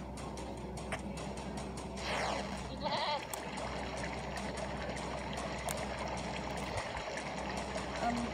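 A goat bleats in a video game, with short wavering cries rising over a busy backdrop of game music and effects, fairly close and mid-level in loudness.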